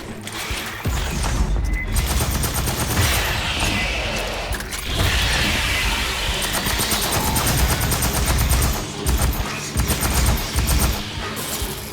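A heavy assault rifle fires in the Aliens: Fireteam Elite video game. The bursts are loud, rapid and close, and they repeat almost without pause over mechanical clatter and impacts.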